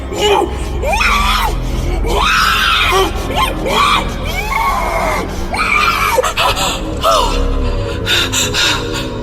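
A woman in a dramatized horror scene lets out loud, sustained wailing screams, rising and falling in several drawn-out cries over a dense, continuous backdrop.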